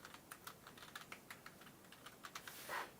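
Soft, uneven keystrokes on a computer keyboard come in a quick run of close, quiet clicks with no talking.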